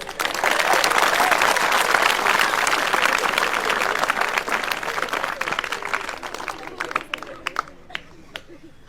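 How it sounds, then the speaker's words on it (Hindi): An audience at a comedic general-knowledge lesson applauds loudly, a thick roar of clapping that gradually thins into scattered, separate claps near the end, with some voices mixed in. "तालियां बनते।"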